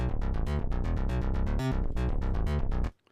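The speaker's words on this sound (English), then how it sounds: "very simple little MIDI sequence here running through a massive patch," A synthesizer plays a fast, simple sequence of punchy repeated notes in a tight rhythm, loud and close, stopping abruptly after a few seconds.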